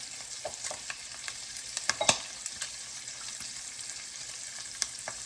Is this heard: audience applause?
no